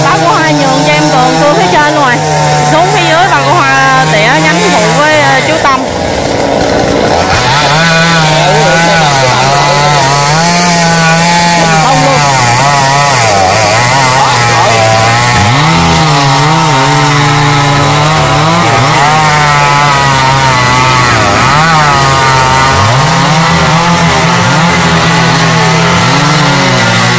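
Big chainsaw sawing through a rain tree, the engine roaring close and steady with a short dip near the start, then sustained cutting with wavering pitch as the chain works the wood.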